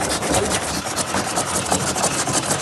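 Ivel tractor engine driving an old Edwardian kibbler grinding cereal crops into animal feed, a dense continuous churning and rumbling with a rough, even texture throughout, loud and close.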